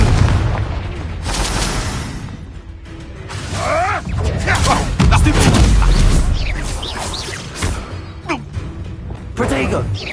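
Confringo explosive spell blasts in the video game Hogwarts Legacy, heavy booms and crashes rolling through a fight, with voices speaking over the combat.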